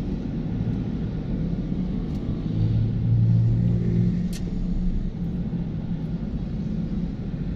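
A truck passes on the Marcos Highway as a steady low road rumble that swells to a peak midway through, then eases back while the engine drone continues under constant traffic noise.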